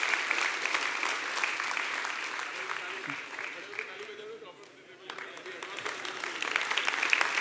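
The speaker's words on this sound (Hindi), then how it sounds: "जोरदार तालियां एक बार राजेश जी के लिए" An audience applauds steadily for Rajesh at an LIC agency reward event, with dense clapping that runs nearly the whole time, dips briefly, then swells again while a voice talks over it.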